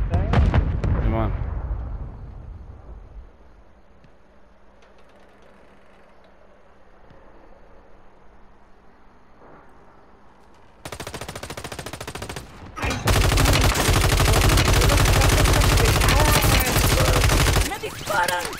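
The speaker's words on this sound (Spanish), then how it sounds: "¡Me disparan!" Heavy automatic gunfire and explosions erupt in Call of Duty multiplayer, starting with a quiet stretch and then dense, loud rapid bursts near the end, with players talking over it.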